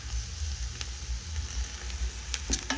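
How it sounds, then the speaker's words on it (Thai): Soft, steady sizzling of curry paste and chicken dry-roasting in a hot pan with faint scraping and stirring clicks, low hum underneath, no talking. "คั่วให้สุกก่อนนะคะคั่วแห้งๆให้สุกก่อน"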